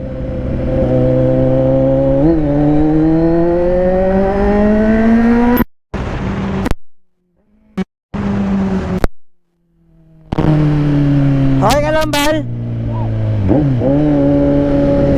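A Kawasaki Z900 SE motorcycle engine revs up and climbs in pitch, cuts out briefly a few times, then roars again with sharp throttle blips close by.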